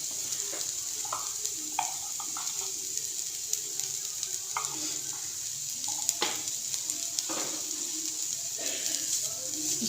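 Chicken mixture with dried chili and black pepper sizzles steadily in a pan while being stirred, with scattered scraping spoon knocks over the continuous frying hiss, up close.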